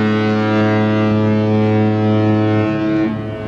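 The cruise ship Celebrity Reflection sounds its horn, a loud, deep, sustained blast holding steady for over three seconds before it begins to fade, with no talk over it.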